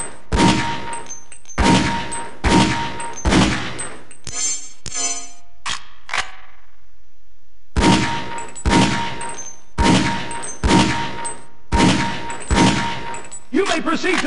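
Pistol firing in Half-Life: Opposing Force, loud single shots spaced about half a second apart in bursts, with a mechanical reload clatter and a brief quiet gap partway through.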